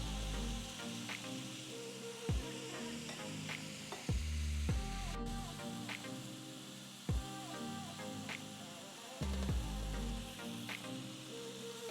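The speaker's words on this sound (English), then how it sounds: "I'm just gonna sear it for about 3 minutes on each side" Beef searing in a pan for stew gives a steady soft sizzle with occasional louder pops and clanks, faint and continuous with no voices.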